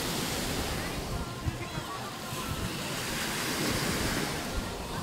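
Sea waves washing onto a white sand beach in steady broadband surf, with a continuous wash and roar and gusts of wind buffeting the microphone, close and fairly loud, with no talking.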